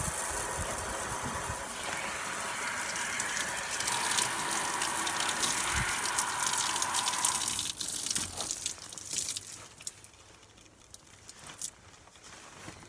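Water runs steadily from a tap during a quick hair wash, a continuous loud gush that fades and quiets partway through, leaving softer trickles and splashes at the end.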